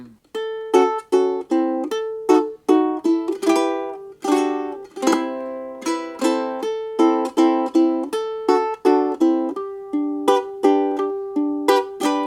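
A ukulele strums a steady sequence of chords, each strum ringing briefly before the next, bright and close, with no voices.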